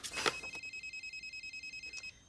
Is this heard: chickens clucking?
no